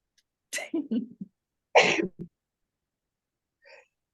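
A person sneezes in a quiet room, a few sharp bursts followed by a louder explosive sneeze and a short trailing sound, then near silence.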